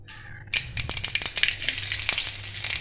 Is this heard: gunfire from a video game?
no